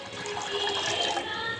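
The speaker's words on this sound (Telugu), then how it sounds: "ఇక్కడైతే బ్లాక్గా ఎక్కడి వరకు అయితే ఉందో అక్కడి వరకు వాటర్ అయితే వేసేసుకోవాలి" Water poured steadily into a burnt, blackened cooking pot on the stove, a continuous close splashing gush with no talk.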